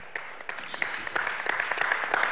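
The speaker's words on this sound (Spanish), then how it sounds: "Vamos a darle un aplauso a los muchachos a la obra de teatro." An audience at a children's hospital celebration applauds a children's theatre performance, a scattered, moderately loud patter of clapping that builds slightly over a couple of seconds.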